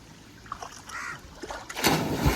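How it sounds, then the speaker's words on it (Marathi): A boy jumps into a village pond in Konkan, his body hitting the water with a loud close splash near the end, preceded by quieter rippling water and faint outdoor voices. "राक्याने पहिले उडी मारले"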